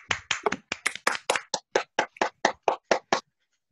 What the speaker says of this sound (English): Can everybody clap for them?